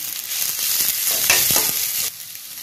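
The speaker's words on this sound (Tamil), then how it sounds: "இப்போ இஞ்சி பூண்டு ஒரு பச்சை வாசனை போகிற அளவுக்கு வதக்கலாம்." Ginger and garlic sauté in a hot pan for a potato and green peas gravy, with a loud, close sizzle and a few scraping stirs of the spoon and no one talking.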